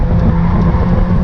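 Inside a Mazda MX5 race car on track, the engine snarls loudly and steadily at close range as the driver drops one gear, a dense continuous roar with no voices.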